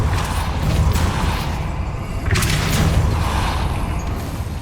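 A Depulso spell cast in Hogwarts Legacy, heard as a rumbling mechanical whoosh with two broad bursts over a steady dense game soundscape, loud and close, no talk.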